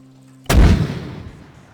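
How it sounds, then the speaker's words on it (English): A single heavy mortar shot in the video game ARMA 3 booms loudly after a quiet hum, then rolls away in a long fading rumble. "So this is the traditional way to set up mortars. It's very simple. Just click and shoot."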